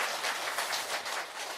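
Audience applause after a host's request at a gathering, a steady wash of many hands clapping for a moment, fairly faint and even with no talk over it.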